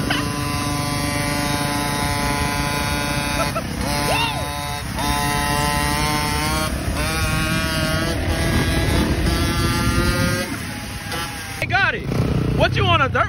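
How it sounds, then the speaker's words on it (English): A dirt bike engine whines and revs nearby as someone rides, its pitch rising and falling in repeated sweeps, with people talking over it throughout. "What, you on a dirt bike?"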